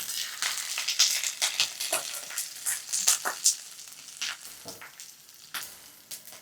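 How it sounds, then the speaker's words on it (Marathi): Ginger and coriander frying in hot oil, a steady bright sizzle with crackling bursts and occasional stirring, close and continuous. "आता आलं तळत आलं की यातच कोथिंबीरही घालूयात."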